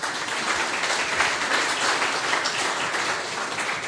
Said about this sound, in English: give her and this wonderful panel a huge round of applause